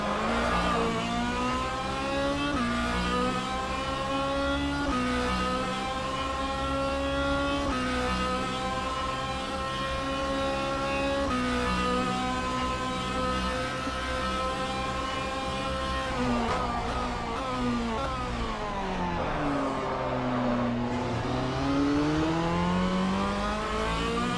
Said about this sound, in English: Oh, great LMGT3 on board with Alan Holden in the number 25 Lamborghini Temerario GT3.